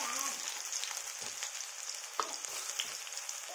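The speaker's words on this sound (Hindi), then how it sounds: "देखिए लहसुन भुजा रहा है, तेल पूरा गर्म ही था पहले से।" Garlic and onion frying in hot oil in a pan for an aloo gobi curry, a steady broadband sizzle with a few brief stirring clatters, close and continuous.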